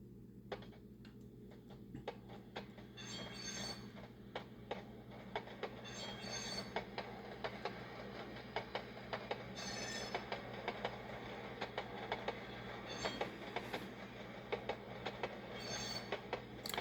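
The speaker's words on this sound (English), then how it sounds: "I'm going to turn it up a little bit so you can hear what it would sound like going down the track" An Athearn Genesis Chessie model caboose with a Soundtraxx Soundcar sound decoder runs along the track with steady rhythmic clicking and rumbling, wheels clacking at regular intervals, moderately loud and continuous.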